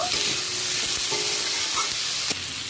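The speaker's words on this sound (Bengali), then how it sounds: "আলুটাও ভালো করে নেড়ে চেড়ে ভেজে নেব।" Loud, constant sizzling of potatoes frying in a pan, with scraping stirs and a few clanks of a utensil against metal.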